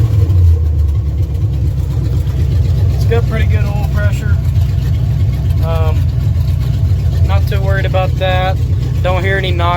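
A 1971 Dodge B200 van with a 318 engine idles steadily, a continuous low rumble running loud and close throughout while someone talks intermittently over it.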